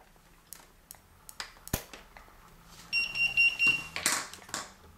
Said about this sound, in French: Le bip indique que la planche peut être retirée.